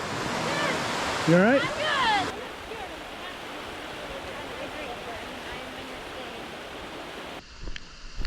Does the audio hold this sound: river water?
yes